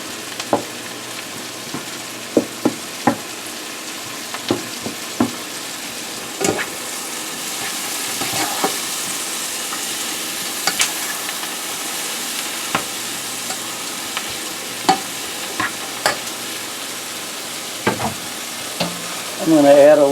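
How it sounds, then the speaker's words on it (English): Risotto sautéing in butter in a pan, a steady broadband sizzle with frequent sharp spoon-and-pan scrapes and clicks from continuous stirring, close and moderately loud, ending with a brief voice. "keep stirring your risotto while you're doing it"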